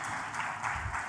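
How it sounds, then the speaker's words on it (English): An award ceremony audience keeps up steady, dense applause that sounds like a full room clapping together, continuous and fairly even throughout with no speech over it. "another big round of applause for all our APIIT talents"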